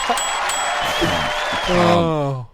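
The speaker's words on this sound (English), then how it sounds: "the crowd goes wild!" Crowd applause and cheering, loud and steady, swelling toward the end before cutting off abruptly, with a voice shouting over it.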